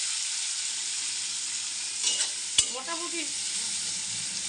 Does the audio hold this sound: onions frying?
yes